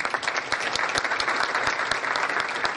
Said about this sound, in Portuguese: E pedir novamente nossa salva de palmas aos nossos painelistas.